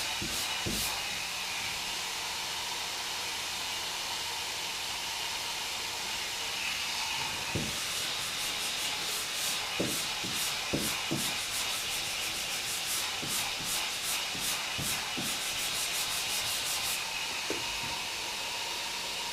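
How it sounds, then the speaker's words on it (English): A car fender being hand-sanded during body repair, heard as a steady, close, quiet rubbing hiss with scattered light scraping strokes and taps, and no voices. "Sand it."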